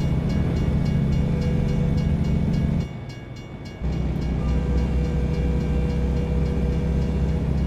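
A train rolls steadily past a crossing in American Truck Simulator, a loud continuous rumble with a sudden short dip in the middle before it resumes, no talking.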